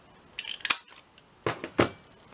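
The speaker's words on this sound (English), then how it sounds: "I'm just going to get my corner punch and just round those corners" A paper corner punch rounds the corners of handmade envelope paper: four crisp snipping clicks in two close pairs, near and distinct, with quiet between them and no talking.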